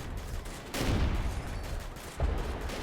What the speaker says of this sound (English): Someone's been calling in artillery.